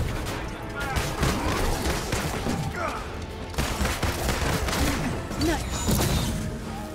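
Gunfire in the Marvel's Avengers video game during a fight against an enemy's mounted guns: rapid, dense bursts of shots with crashes and metallic impacts, continuous and loud for several seconds, with a voice faintly mixed in.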